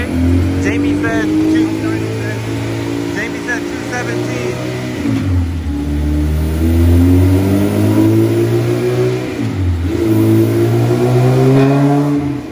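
A car engine revs and accelerates in smooth rising sweeps, loud and close throughout, with a slight dip around the middle and again near the end as it shifts and climbs; no one speaks over it.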